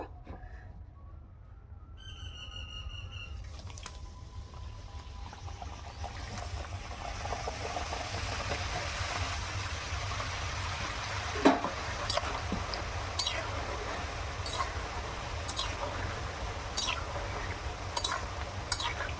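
Rolled kuchi nimki dough pieces for a Holi snack go into hot oil in a village kitchen, setting off a steady close sizzle with scattered crackles and pops that build after the first few seconds, with no talking.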